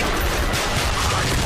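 Rapid gunfire crackles in Call of Duty: Black Ops, a dense, loud volley of shots over about a second and a half, with faint voice mixed in.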